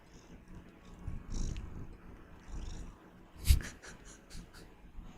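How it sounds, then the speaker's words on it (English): A cat purrs softly while held in someone's arms, a low continuous rumble close to the listener, with a brief rustle or snort partway through and faint handling noise around it. "He's purring in my arm right now."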